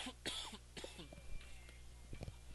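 A single sharp cough bursts out near the start of a football game broadcast, followed by quieter throat sounds and muffled vocal noises.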